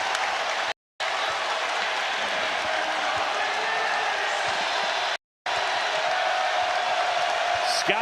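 Home crowd roaring at Foster Pavilion during a Baylor Bears men's basketball game against Arizona: dense, loud sustained cheering and applause filling the arena, broken by two brief silent gaps.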